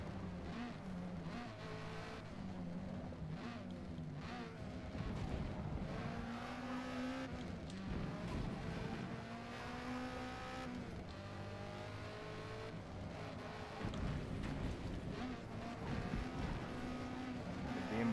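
Race car engines drone and whine around a Forza Motorsport circuit, a steady layered roar that rises and falls with revving and shifting, moderately loud and continuous throughout.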